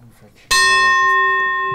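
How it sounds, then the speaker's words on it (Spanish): A single bright metal bell is struck once after a moment of quiet, ringing out loud and clear with a long, steady sustained tone that slowly fades, with no voices over it. "voy a tocar la campana"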